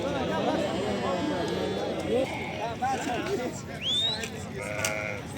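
Sheep and lambs bleat repeatedly at a busy sheep market in Barda, overlapping calls near and far mixed with hoof clatter, under loud ongoing talk among traders.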